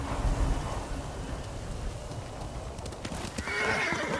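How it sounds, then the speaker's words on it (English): Horse hooves clip-clopping at a gallop in the samurai action game Ghost of Tsushima, with a loud whinny and a soft wash of rain and distant thunder, steady and close throughout. "You're a good horse, Kabi."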